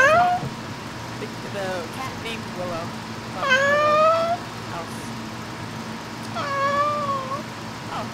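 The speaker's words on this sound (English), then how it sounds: "Oh, save the little cat." Several cat meows inside the Phasmophobia video game, rising and falling with clear harmonics, a couple of them long and prominent, set over a steady low game hum with faint talk.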